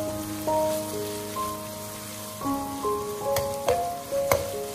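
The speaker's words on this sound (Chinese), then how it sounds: "再把姜蒜末倒下来，继续翻炒出香味" Minced ginger and garlic sizzle and crackle as they are stir-fried in a hot wok, a steady frying hiss with a few sharper spatters, heard under tonal background music.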